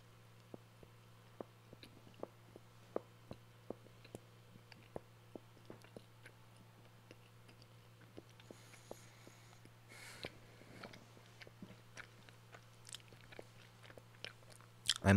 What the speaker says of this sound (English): I'm munching on a bagel right now, so if you hear me crunching, then that's why.